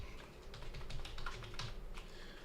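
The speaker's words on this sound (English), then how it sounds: "But it's not letting me type it in." Faint, quick keyboard taps, a light run of clicks at moderate distance over a low steady room hum, with no speech.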